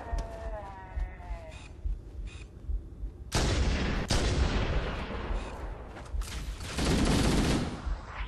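Gunfire in Halo: Combat Evolved, with bursts of broadband shots and booming blasts crowding the second half after a quieter opening, loud and near, with a game voice murmuring faintly underneath.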